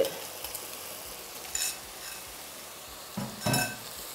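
Eggs fry in a pan over low heat with a soft, steady sizzle, broken by a few light clinks and scrapes of a utensil against the pan.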